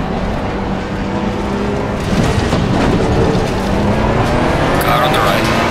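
Ferrari 296 GT3 race cars in the racing game Assetto Corsa Competizione at Oulton Park, producing a loud, steady engine drone that swells in intensity partway through.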